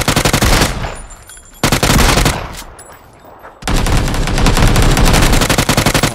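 Rapid automatic gunfire in the battle royale game PUBG comes in loud, dense bursts, a long volley, a short pause, another burst, then sustained fire to the end.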